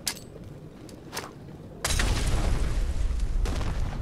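A mine goes off in Fallout 4. A few sharp pops come first, then a sudden loud blast about two seconds in, followed by a sustained roaring rumble that fills the rest of the moment.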